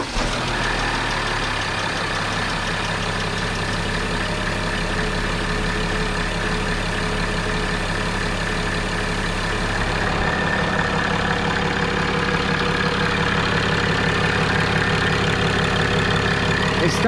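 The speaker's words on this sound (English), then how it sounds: "I'm just gonna start the car and see how that goes." A diesel car engine, just primed after its fuel injectors were cleaned during a fuel filter change, idles loudly and steadily throughout with a constant rumbling drone and no talk over it.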